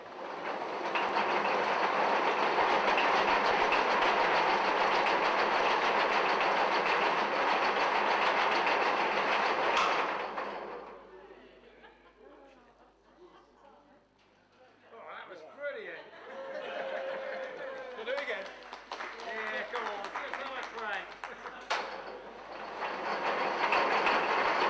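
The diesel locomotive Finsbury Park at Barrow Hill cranking over without fuel, a loud, rough, continuous churning for about ten seconds that then drops away, followed by quieter mechanical clatter as people talk nearby.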